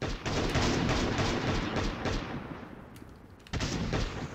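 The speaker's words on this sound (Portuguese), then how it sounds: "Estão atirando de longe, hein, galera?" Gunfire from a distance in the survival game Last Day on Earth, heard as a dense run of rapid muffled shots, a brief lull, then another burst near the end, with no talking.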